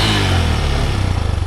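Motorcycle engine running with the choke on, a loud close steady idle with a low throbbing pulse that grows more choppy and uneven toward the end.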